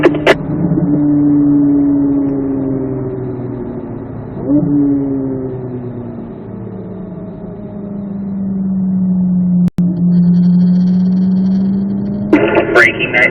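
A Corvette Z06 engine drones under steady throttle on a race track, its pitch sliding up and down through corners, with someone talking over the engine and a short click partway through.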